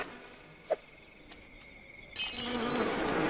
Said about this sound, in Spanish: Un panal de abejas.